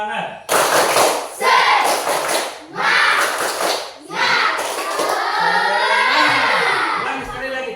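A class of schoolchildren performs the tepuk semangat clapping chant, with bursts of rhythmic hand claps and chanting voices in a lively, close group, alternating with louder shouted passages.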